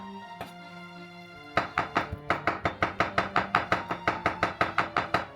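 A kitchen knife chops pitted umeboshi plums into a paste on a cutting board; after a single early knock, a steady run of quick, sharp, evenly paced thuds follows, close and distinct.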